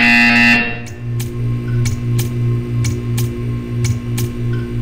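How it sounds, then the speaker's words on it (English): A repeating electronic buzzer from the video game Portal 2 sounds in a steady series of short pulses over a low hum, loud and close, with no voices. "When you hear the buzzer, stare at the art."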